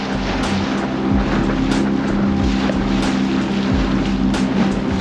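An inflatable FishSkiff 16 boat cruises over shallow flats, its engine giving a steady loud drone with constant rushing wind and water noise throughout.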